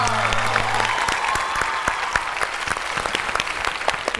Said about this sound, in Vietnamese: Vỗ tay cho bạn nè